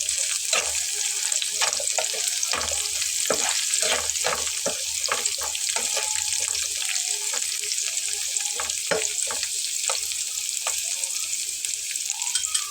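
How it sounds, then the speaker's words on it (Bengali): Garlic and four dried red chillies fry together in a pan, a continuous close sizzle dotted with sharp crackles and pops throughout, with no voices. "রসুনের সাথে এখানে আমি দিয়ে নিচ্ছি 4টা শুকনো মরিচ, একই সঙ্গে ভেজে নেব"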